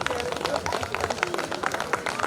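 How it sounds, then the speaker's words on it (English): An audience at a hernia surgery symposium in Nepal claps in a short, fairly dense burst of applause heard from within the hall. "Big round of applause to all those."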